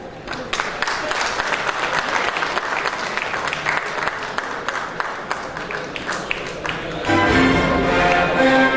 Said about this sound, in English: A huge round of applause for Sri Shatrughan Kar.